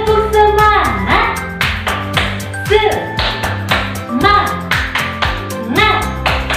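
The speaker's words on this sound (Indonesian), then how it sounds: "Tepuk semangat." Children clap out a rhythmic tepuk semangat routine in a kindergarten class, sharp hand claps falling in repeated patterned bursts over a bright melodic music backing.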